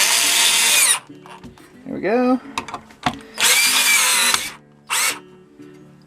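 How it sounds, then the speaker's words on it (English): Cordless power drill driving screws into a board for a bicycle-part animal mount, heard in two loud sustained whirring bursts separated by clatter and handling noise, with brief talk in between. "now I'm going to screw them into the board with my handy-dandy drill"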